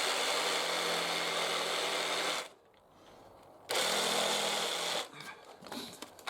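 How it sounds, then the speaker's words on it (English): A jigsaw cuts into a timber rafter on a structural steel-framed roof, running in two loud, steady buzzing bursts with a short quiet gap between them, then trailing off into uneven, choppy strokes. "Main cuts in, just clear that out with the jigsaw."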